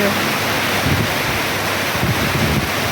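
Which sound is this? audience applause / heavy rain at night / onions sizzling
heavy rain at night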